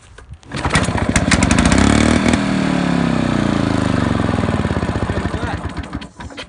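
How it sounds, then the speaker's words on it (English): An old Australian-made Victa lawn mower engine sputters, catches and roars to life on the first pull, then settles into a loud, steady run before cutting back. "I think we have ourselves a running old Victa Australian-made mower"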